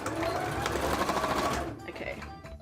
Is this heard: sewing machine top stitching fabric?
yes